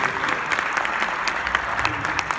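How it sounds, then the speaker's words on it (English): Audience applause for Lundy and Mike after a talk at an entrepreneurship event, a steady dense clatter of many hands clapping, sustained and fairly close throughout. "let's give Lundy and Mike a nice round of applause"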